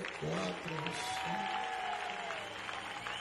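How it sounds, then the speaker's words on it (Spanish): Church congregation applauding at a year-end celebration service, steady crowd clapping mixed with a voice and music, sustained at moderate loudness through the clip. "Dale ese aplauso fuerte al que vive, vamos."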